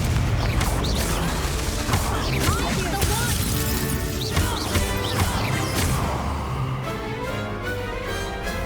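Blasting spell impacts from a Hogwarts Legacy duel: repeated crashing, whooshing bursts and smashes over a continuous busy backdrop, with a voice talking through part of it.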